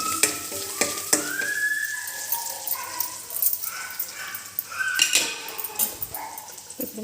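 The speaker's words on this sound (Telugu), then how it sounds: "లాస్ట్లో ఇంగు వేస్తున్నాను" Hot oil sizzles in a pan as asafoetida goes in for tempering, with stirring clatter; a dog barks in the background.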